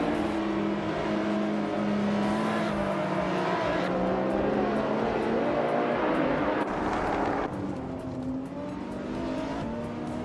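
Race cars roaring through a video game race, with a continuous near engine drone that shifts pitch as they accelerate and pass, and occasional tire noise, with no talk.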